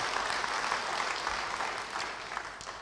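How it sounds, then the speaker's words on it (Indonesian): A church congregation applauds during a sermon, a dense, steady wash of many hands clapping at moderate distance, fading slightly at the end. "Yang mau beri tepuk tangan bagi dia."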